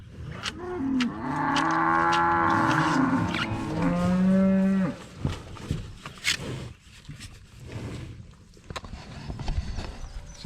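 Beef cattle out in a pasture moo loudly and at length close by, with one deep drawn-out call and then the scattered shuffles and footsteps of the herd gathering.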